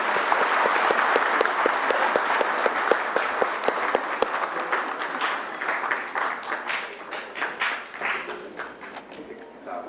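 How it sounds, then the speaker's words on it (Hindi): An audience at a national Aadhaar services workshop gives a welcome with loud, fairly near clapping that starts dense and thins into scattered, rhythmic claps. "जोरदार तालियों के साथ उनका स्वागत करें।"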